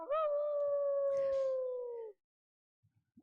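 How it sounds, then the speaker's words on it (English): A single wolf howl sound effect played on a live stream, one long sustained tone about two seconds, loud and close, sliding gently down at the end before silence and a few soft taps. "We got the wolf howl up in here tonight."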